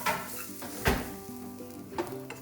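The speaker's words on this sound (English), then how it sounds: "Now we are going to dry roast 1 cup of shredded coconut in a pan on medium flame until it becomes golden brown." Shredded coconut dry roasting in a pan over a medium flame sizzles steadily, with a few soft clinks of a utensil against the pan standing out.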